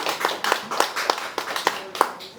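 Audience applause at a commemorative discussion gathering, steady rhythmic clapping from a group of people with a few sharper, louder claps standing out.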